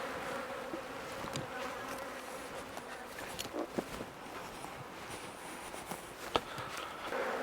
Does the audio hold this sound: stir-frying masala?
no